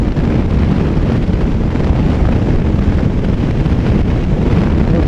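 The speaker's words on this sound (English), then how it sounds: "Whoa, there's the wind. It's back." Strong wind roars and buffets against the microphone while riding an Aprilia Tuareg motorcycle downhill toward Camp Verde, Arizona. The rumble is loud, close and continuous, with no speech.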